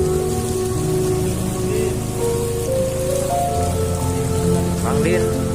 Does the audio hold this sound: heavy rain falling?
yes